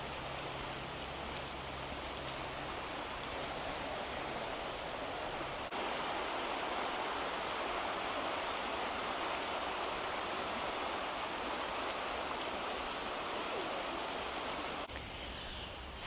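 A river in the Great Smoky Mountains near the Oconaluftee Visitor Center rushes steadily past, a constant broadband wash of flowing water with no voices over it.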